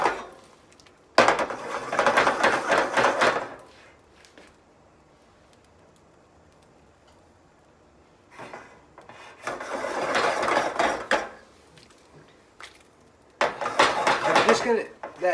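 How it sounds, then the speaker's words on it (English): A frying pan holding scrambled eggs is jerked back and forth on the stovetop to flip them. Three bursts of scraping and rattling metal sound up close, separated by quiet pauses. "That flipping technique, you're just using your hand and jerking that pan back to you, just like that."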